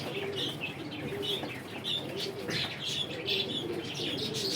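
Pigeons coo repeatedly at close range, a steady run of low rolling calls mixed with brief higher chirps and some wing rustle, with no talk over them.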